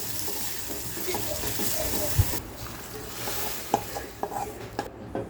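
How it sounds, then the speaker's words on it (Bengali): Whole cumin, chopped onion, garlic and bay leaf dropped into hot oil to temper tomato dal, a bright hissing sizzle that drops off partway through, followed by a few scattered clinks of utensils. "বাগারের জন্য তেলের উপর গোটা জিরা পেঁয়াজ রসুন কুচি আর তেজপাতা দিয়ে দিলাম"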